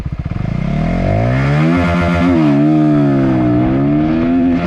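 A Voge 125R motorcycle accelerating hard, its small single-cylinder 125 engine revving loud and close, climbing steeply in pitch and holding a high buzzing whine through gear changes.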